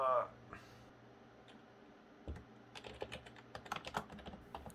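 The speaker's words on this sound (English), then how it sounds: "This uninterrupted typing you can hear right now is me blindly entering the description" Rapid typing clicks on a Windows XP computer keyboard in irregular bursts, close and fairly quiet, becoming denser toward the end.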